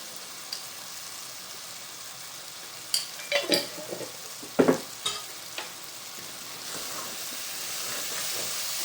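Ingredients for a pomfret fish curry are stirred in a pan with ghee and salt, a soft steady sizzle broken by a few sharp clinks and scrapes of a utensil.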